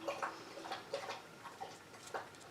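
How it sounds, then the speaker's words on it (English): A big female puppy laps water from a bowl nearby, with quick, irregular wet slurps and clicks spaced through a quiet room. No one speaks. "That's my puppy dog, you guys. She's just getting a drink of water."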